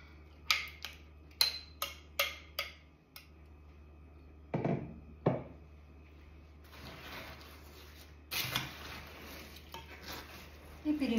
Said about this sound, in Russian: Перемешиваем.